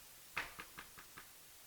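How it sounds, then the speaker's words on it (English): Five knocks on a door in an even, slowing rhythm, the first loudest and the rest fading, heard alone against a quiet room. "You knocked?"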